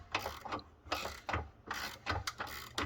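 A small hand ratchet wrench works on the harmonic balancer of a Jeep XJ, giving repeated quick bursts of clicking in a steady back-and-forth rhythm, close and fairly quiet.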